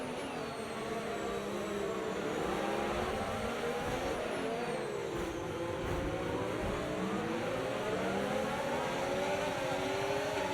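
Race car engine in a racing game pulling away from the start, a steady loud whine that climbs and shifts in pitch as it accelerates, continuous throughout with other cars faintly behind.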